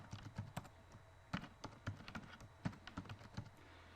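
Quick keystrokes on a computer keyboard as a password is entered, irregular close taps in short bursts with brief pauses, no talking.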